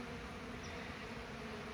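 Bees buzzing around a hand outdoors, a faint steady insect hum lasting the whole short stretch with no voices.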